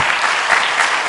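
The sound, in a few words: audience applause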